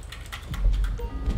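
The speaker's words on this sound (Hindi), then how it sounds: "ये टीटी टीटी आवाज कैसे करने लगा हमारा कीबोर्ड" Rapid light clicking of a computer keyboard during a GTA 5 race, a brief run of soft taps heard alone with no talk, fairly close.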